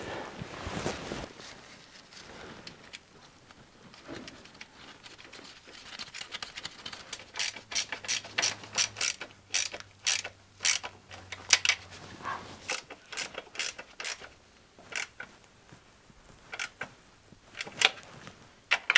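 Small screws on a Peugeot 205 engine mount are worked with a hand tool, producing sharp irregular metallic ticks and clicks in quick bursts close by, with quiet stretches between them and no talk.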